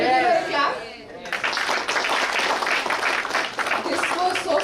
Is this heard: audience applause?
yes